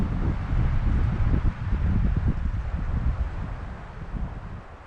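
Gusty wind blusters against the microphone outdoors in bitter late-fall cold, rising and falling in loud low rumbles, with no voices present.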